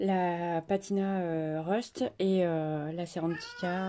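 A house cat yowls and meows loudly close by in long, drawn-out wavering cries broken by short pauses, with the calls dominating the scene.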